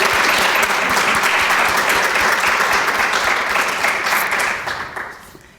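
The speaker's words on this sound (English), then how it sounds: "Naomi, could you stand up so we can admire you and clap and all this stuff?" Audience applause at a welcome session for an Italian Baroque organ event, a dense steady clapping crowd that holds loud for several seconds and then fades out toward the end.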